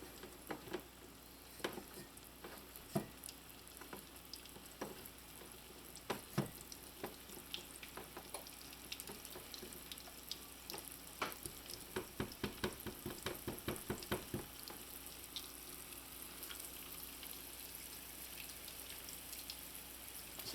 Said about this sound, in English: put them into your frying pan